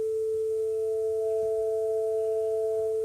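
Two pure steady tones sounding a musical fifth, do to sol, in a demonstration of just intervals: a lower tone holds throughout while a higher tone joins shortly after, with faint low pulses underneath.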